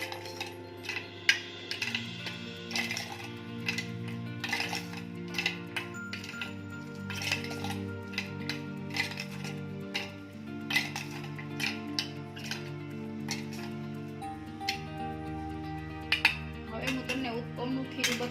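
Chilli powder and salt being mixed into chopped vegetables in a bowl for uttapam, with light irregular clinks and taps of a spoon against the bowl under a steady background hum.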